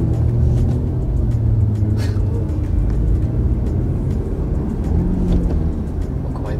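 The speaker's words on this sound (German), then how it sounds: "Jetzt geht's mit grün. Aber jetzt beschleunigt sie schon dezenter." A learner driver's car pulls away gently from a green traffic light during a driving lesson, with a close, steady engine rumble and road noise in the cabin.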